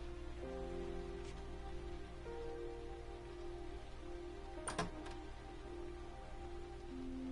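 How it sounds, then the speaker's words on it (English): Heavy rain in the video game Heavy Rain, a steady dense patter of drops on surfaces that holds throughout, with a brief louder clatter near the middle. "So much damn rain."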